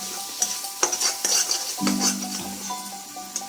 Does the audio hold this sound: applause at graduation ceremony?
no